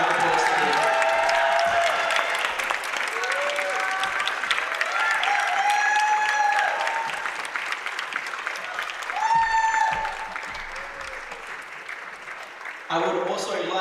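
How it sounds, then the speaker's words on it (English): Sustained applause from a competition audience at a national championship event, dense clapping that stays steady for most of the stretch, with voices mixed in underneath, fading slightly before a brief louder burst near the end. "huge round of applause to him."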